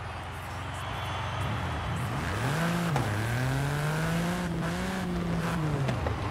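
Hot Wheels Rip Rod car in Forza Horizon 5 revving loud and close, its engine pitch climbing and holding in a steady drone with a brief tire squeal, over a constant background hum.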